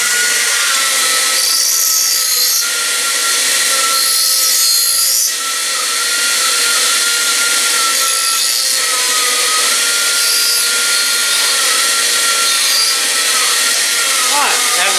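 A grinder works metal on a 1958 car body project, a loud continuous whine holding steady for the whole stretch with small shifts in pitch.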